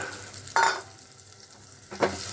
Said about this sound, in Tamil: இப்போ இதில் நம்ம சாம்பார் வெங்காயத்தை போட்டுடலாம்.